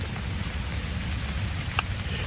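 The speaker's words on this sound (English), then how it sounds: "You can see that there's rain starting to form on the stuff." Steady rain falls outdoors around a bushcraft campfire, a soft continuous patter of drops on surfaces with a few slightly sharper taps, even and moderately loud throughout with no voices.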